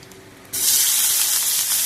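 Cumin seeds hit hot oil with a sudden loud sizzle halfway through, then a dense, steady crackling hiss of spluttering frying up close, with no voices.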